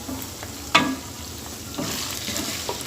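Ground spices with salt and crushed and powdered red chilli frying in a pan for chicken malai masala, a soft close sizzle with a sharp clatter of stirring and a few scrapes.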